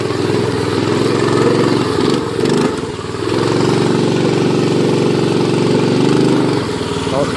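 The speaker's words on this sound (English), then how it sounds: "Oh, the throttle stuck." Minibike engine revving high and steady with a stuck throttle out on a wooded dirt trail, loud and close, with one brief dip in the middle before the drone resumes.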